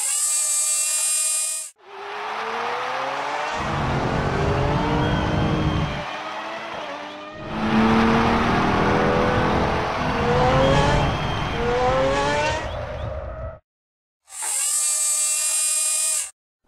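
Cartoon race cars zoom around near a pit stop, with whining engines sweeping up and down in pitch across several passes, bracketed by short musical stings at the start and end.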